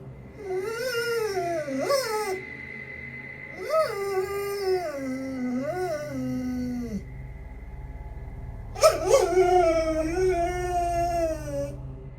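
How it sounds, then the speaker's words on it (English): A dog whines steadily while staring at something, long wavering high-pitched whimpers and howl-like cries rising and falling in pitch, pausing briefly before a louder, sharper cry, close and clear with no talking. "He's seen in the video staring at something and whining for several minutes."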